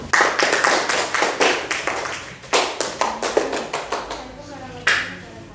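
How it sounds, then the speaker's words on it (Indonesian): A classroom group applauds after a student group presentation, a short burst of clapping from several people that thins out into scattered claps, with a voice briefly heard. "kita beri aplaus untuk kelompok 1"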